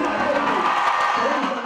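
A crowd cheers and shouts at a governor's handover ceremony in a dome at Dumberi grounds, Kiambu County, as Ferdinand Waititu and William Kabogo arrive; the dense, steady roar of many voices runs throughout.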